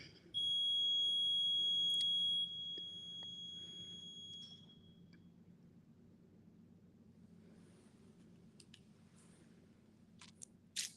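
A K2 EMF meter sounds its alarm inside a church, a steady electronic tone that shrills loudly for about two seconds and then drops and fades over a low background hum.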